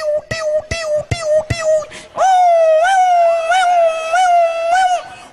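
A man imitates an ambulance siren with his voice, first a few short clipped whoops, then a long, loud wavering wail that rises and dips like a siren sweep, close and alone.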